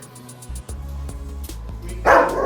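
An aggressive German Shepherd gives a sharp bark near the end, after quieter shuffling and low noise during a dog training session.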